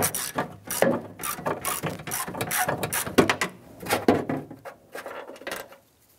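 A ratchet turning a T30 Torx bit to loosen a bolt on the rear door of a 2002-2008 Dodge Ram 1500, rapid close clicking in repeated bursts of strokes that stop near the end.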